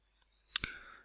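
A single computer mouse click, a quick close double tick with a short faint tail, otherwise near silence.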